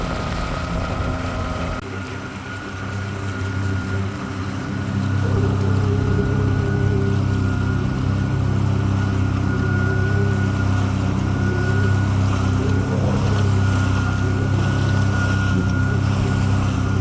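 A MacGregor 26M sailboat motoring under engine power toward Georgetown, its outboard droning steadily and loudly alongside wind rumble and passing water, growing louder after a few seconds.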